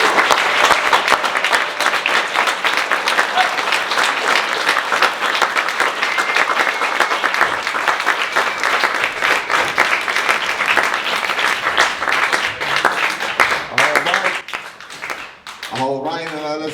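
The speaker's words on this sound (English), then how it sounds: "let's stand on up and give a round of applause to all" Audience applause fills an evening event, sustained and dense for many seconds before tapering near the end as a voice begins to speak.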